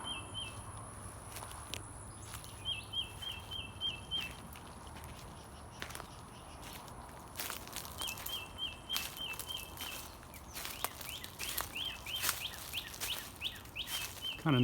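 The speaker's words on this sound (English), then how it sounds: "You hear the birds chirping and singing." Birds chirp and sing in a wooded Texas backyard, repeated bright trilling calls at moderate distance, heard over footsteps crunching through leaves and brush.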